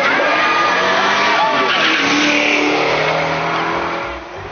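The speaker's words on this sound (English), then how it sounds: "John's little white Datsun, with a mighty Zilla power converter under the bonnet, is about to show a petrol car a thing or two" Electric car fitted with a Zilla power converter drag racing a petrol Mustang, a loud roaring, whining engine and vehicle rush that holds steady for about four seconds before fading slightly at the end.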